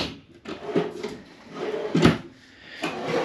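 A kitchen drawer in a 2022 Crossroads Zinger 290KB travel trailer slides open and shut, several soft woody thumps and rolling scrapes close by, with no talk.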